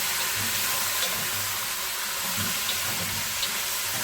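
Water poured over beef tripe cooking in a pan gives a steady, close hiss and sizzle of liquid on hot food that holds fairly even for the whole stretch, with no talk.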